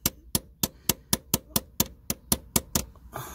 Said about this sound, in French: Avec mon marteau, je vais taper tout doucement.